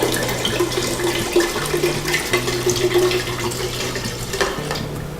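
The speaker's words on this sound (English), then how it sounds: "let's go ahead, put the whole bottle of Pinot Grigio" Whole bottle of Pinot Grigio poured into a pitcher for white sangria, a continuous gurgling splash of liquid running for several seconds, close by with no talk.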